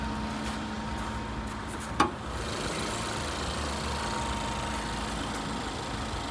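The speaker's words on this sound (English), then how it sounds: "That's the engine, which is the 2-litre petrol turbocharged EcoBoost, 200 brake horsepower." A Lincoln MKC's 2-litre turbocharged EcoBoost petrol engine, rated at 200 brake horsepower, idles with a steady, even hum, broken by one sharp click partway through.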